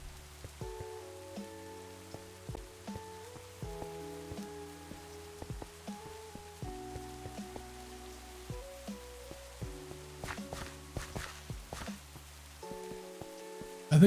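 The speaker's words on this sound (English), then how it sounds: "you're hearing the rain in the game" Rain falls steadily in Minecraft, a soft, even patter beneath prominent tonal game music and scattered clicks that carry on for the whole stretch.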